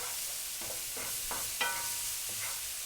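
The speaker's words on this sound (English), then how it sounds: "All right, so let's give that a stir." Softened, translucent onions stirred in a frying pan for shrimp fra diavolo, a steady low sizzle broken by several short scraping strokes of the utensil, close and moderately quiet, with no talking.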